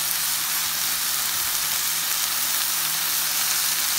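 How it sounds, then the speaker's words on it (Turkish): Meat for İskender fries in a hot pan, a loud, dense and continuous sizzle heard up close, alone without any voices. "Kızaran etimizi çeviriyoruz."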